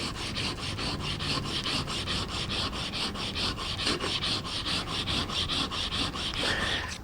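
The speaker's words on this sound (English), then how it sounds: "I'm trying to grind it back and forth" Steady, rhythmic rasping of a Japanese chisel's back scraped back and forth on sandpaper, close and continuous, with regular strokes roughly every quarter second.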